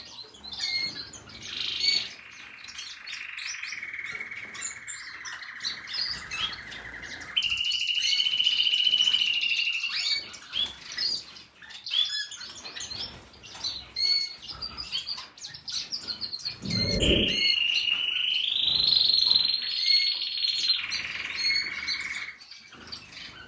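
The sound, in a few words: male birds singing in breeding season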